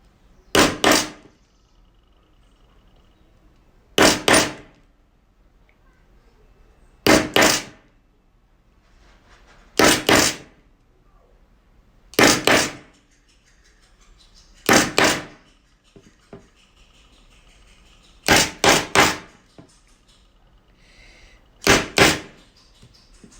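Hammer blows on a leather punch while broguing leather, landing in loud, close pairs and short bursts every two to three seconds with quiet gaps between them.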